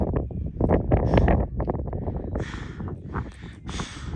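Strong mountain wind near Ice Lake on the Annapurna Circuit, about 4620 meters up, buffets the microphone with a loud, low roar, rising and falling in bursts and hissing gusts near the end.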